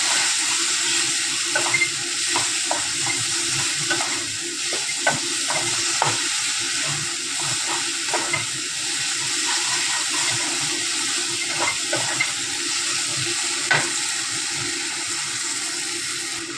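Tomato added to hot spices for channa masala, frying with a dense, continuous sizzle and crackle, stirred now and then with soft scraping clicks, close and steady throughout.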